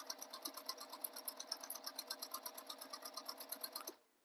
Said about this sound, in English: make sure you're using your stitch length you use for stitching a bag together.